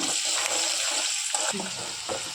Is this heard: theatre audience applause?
no